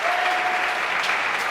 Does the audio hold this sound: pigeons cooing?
no